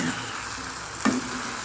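Stir-fried papaya flowers with cream milk sizzle steadily in a pan, with a short scrape of stirring about a second in, close and alone without talk.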